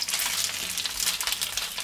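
Potatoes frying in a pan for German-style fried potatoes, a steady dense sizzle and crackle of hot fat close by, continuous and fairly loud with no talking.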